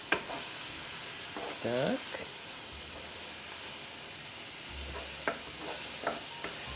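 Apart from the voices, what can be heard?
minced meat frying in a pan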